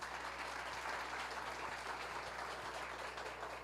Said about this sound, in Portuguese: Daniel, palmas.